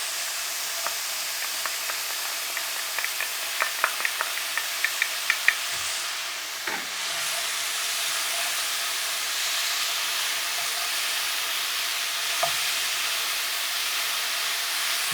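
Beef searing in a pan with a black bean mixture for beef, green pepper and garlic, giving a steady broadband sizzle with a few faint clinks of stirring early on, continuous and moderately close.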